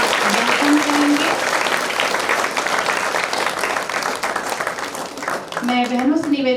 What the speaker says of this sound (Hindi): ताली बजा करके उनका अभिवादन करेंगे।